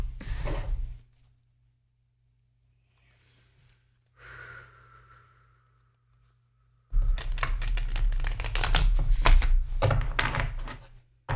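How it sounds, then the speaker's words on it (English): Tarot cards are shuffled in short riffling bursts, a brief one at the start and a longer clattering run near the end, with quiet pauses and faint breathing between them. "It's got to be the worst shuffle job I've ever done."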